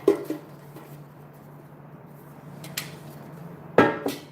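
Raffle tickets stirred by hand inside a container give a faint papery rustle broken by a few sharp knocks and clacks against the container's sides, louder near the end.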